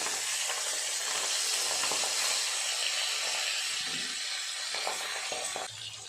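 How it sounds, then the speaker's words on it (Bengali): Pabda fish frying in a pan of oil makes a continuous, close sizzle and hiss, with a few soft scrapes as the pieces are turned. No voices are heard. "মাছগুলো উল্টে দেবো, অপর পাশটা খুব ভালো করে ভেজে নেব।"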